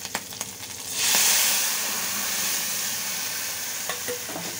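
Boiled flowers with tamarind poured into a hot pan and stirred: a sudden loud surge of hissing steam and sizzle that gradually settles, with clinks of a spoon on the pan before and after.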